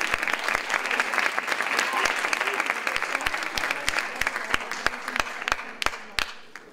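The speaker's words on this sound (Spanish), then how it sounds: "Un aplauso para ustedes." Applause for performers at a university psychology faculty ceremony, steady crowd clapping with sharp individual claps standing out near the microphone, continuing for about seven seconds.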